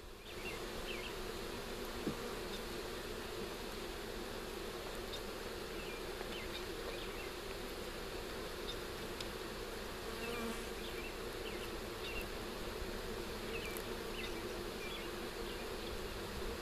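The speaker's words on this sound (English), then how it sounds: "Bees are landing on me." Steady dense buzzing of many honeybees from a package of bees, continuous and even throughout, with a few individual insects passing closer now and then.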